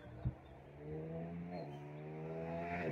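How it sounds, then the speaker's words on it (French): A motorcycle passes along a road through Alpine countryside near a lavender field, its engine note rising and shifting in pitch as it approaches and goes by, loud and steady after a brief knock at the start. "Il y a une moto qui passe là, avec du bruit."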